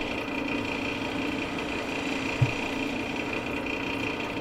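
A wood lathe spins olivewood for a pizza tool handle, giving a steady close motor hum with a faint whine and a soft, even texture throughout, plus one brief low knock partway through. No one speaks.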